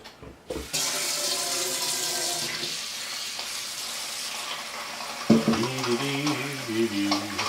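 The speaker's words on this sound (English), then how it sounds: "And we'll throw a little cold water in here." Cold water pours into a bowl of ice for a mozzarella-making ice bath: a steady splashing stream up close, followed by clinking and sloshing as the ice shifts in the water.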